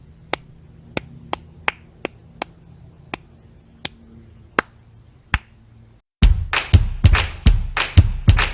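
Sharp, evenly spaced hand claps ring out alone for six seconds, about eleven single strikes in a steady rhythm, then a louder, denser burst of clapping follows in quick groups, as in a beginner rhythm-reading exercise.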